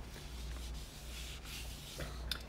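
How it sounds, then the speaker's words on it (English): Ultra soft Kleenex tissue rubs oil gently into a surface in soft, close swishing strokes, quiet and steady with a slightly sharper scrape near the end. "I'm just gonna rub it in very gently with this ultra soft Kleenex"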